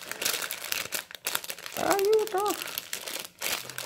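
Plastic packaging of nail gel products crinkling and crunching as it is cut open with scissors, busy rustling throughout while someone talks and exclaims over it.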